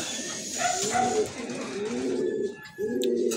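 Soft, low racing pigeon cooing in repeated throaty phrases, fairly close, with faint background chatter and a brief high whistle-like tone.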